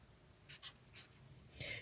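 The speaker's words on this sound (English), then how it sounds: "I'm going to write a fraction right now" Someone writes a fraction by hand in a few short scratchy strokes, quiet and close, with a longer stroke near the end.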